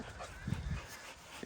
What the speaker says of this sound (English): Where's your dog? The brown one?